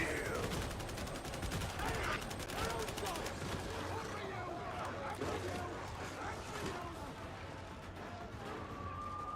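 Heavy gunner enemy firing in the Warhammer 40,000: Darktide video game, a dense, continuous barrage of rapid gunfire with crashes and scattered game effects, loud throughout under a busy battle mix.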